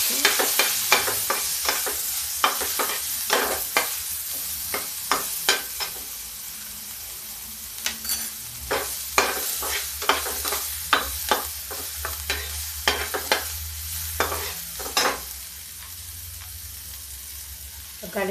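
Chopped onion and ginger sizzling in a pan for dal while a spoon stirs them, steady frying hiss punctuated by frequent sharp scraping clicks, close and moderately loud, with no talking.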